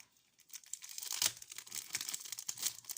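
Satin gift ribbon and its packaging crinkle and tear as they are unwrapped for a paper gift bag, with a run of close, dry rustling bursts and no talk.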